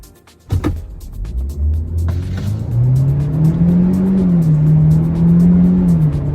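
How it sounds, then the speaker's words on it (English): A 2024 GMC Terrain SLT in all-wheel drive accelerates hard from a start, its engine note rising steadily in pitch and loudness, then holding a sustained strained drone near the cabin with no talking. "let's see how well you do with an all-wheel drive acceleration"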